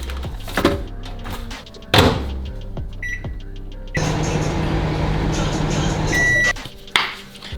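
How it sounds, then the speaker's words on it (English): Microwave oven heating food: a door thunks shut, several keypad beeps sound, then a steady loud hum runs for a few seconds and ends with completion beeps and the door opening. "I'm gonna warm it up in the microwave."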